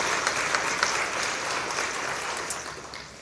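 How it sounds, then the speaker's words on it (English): An audience claps warmly at the 2023 OSU Hall of Fame ceremony, a continuous close wash of hand claps with a few sharper individual claps standing out, holding steady throughout. "sure, you can clap."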